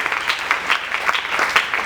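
Congregation clapping together during a church service, a dense steady patter of many hands with rhythmic swells, sustained and fairly loud throughout.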